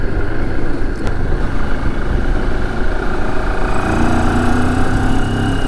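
A 2022 Moto Morini X-CAPE 649 engine throbs steadily under wind rush while ridden, its tone rising slightly toward the end as the throttle opens.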